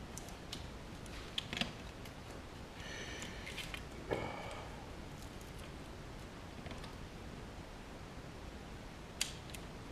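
Cutting out a piece of material for a 1000mm AP Rascal racer camera holder, with faint scattered snips and ticks at close range over a quiet background.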